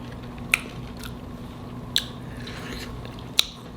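Someone bites into shrimp tacos three times at even intervals, and each close, crisp crunch stands out against a quiet background.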